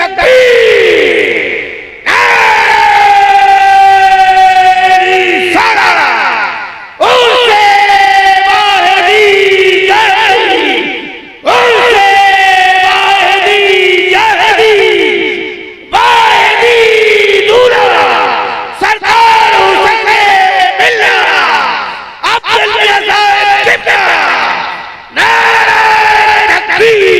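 A large crowd at an Urs religious gathering roars a loud chanted response to a Takbir call, with about six massed bursts of voices in steady succession, each separated by a brief pause.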